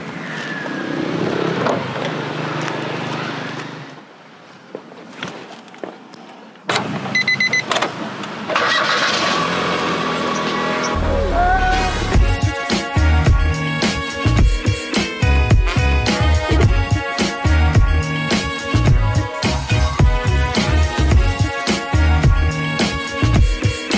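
A Nissan March 2013 car on a test drive, its engine and road noise rising to a steady, loud drone with busy rattles and bumps after a quieter start with a brief pause.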